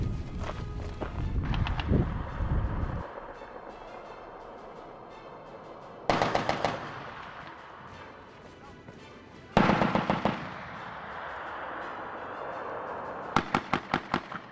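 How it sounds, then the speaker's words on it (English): Bursts of machine-gun fire from soldiers firing back from towers and Humvees at a camp in Afghanistan's Pech Valley, loud and near, coming in rapid strings separated by quieter gaps. "The soldiers fire back with machine guns mounted in towers and Humvees."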